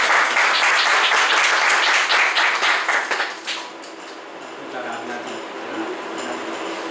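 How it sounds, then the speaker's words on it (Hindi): A church congregation claps during worship, a dense wash of applause that fades after a few seconds into quieter room noise and murmuring. "परमेश्वर को महिमा देते हैं तालियों से आराधना के लिए।"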